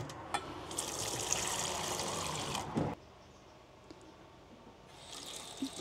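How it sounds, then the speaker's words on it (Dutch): Tap water runs into and rinses a glass at a sink, a loud gushing stream for about three seconds that cuts off, then resumes softer near the end. "Het glas even afspoelen."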